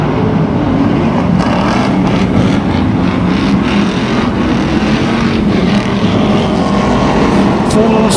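BriSCA stock cars race around an oval at Kings Lynn in November, a continuous loud roar of several engines blending together, with crowd and commentary noise underneath.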